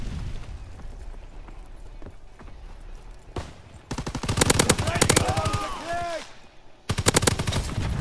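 Bursts of rapid automatic gunfire from a multiplayer shooter video game, loud and up close, with a quieter stretch of lower activity before two dense volleys separated by a brief pause.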